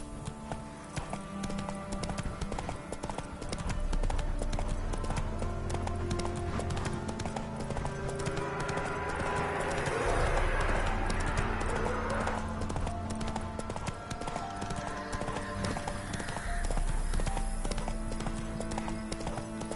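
A horse's hooves clip-clop in The Witcher 3 video game, a steady rhythmic patter of hoofbeats at a trot over game music and ambient sound, continuing throughout.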